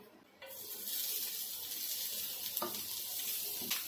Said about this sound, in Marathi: आता खोबरं आहे ना छान भाजून घ्यायचं, थोडंसं सुकं करून घ्यायचं।